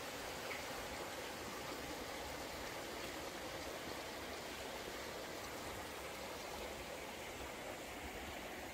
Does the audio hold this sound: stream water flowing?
yes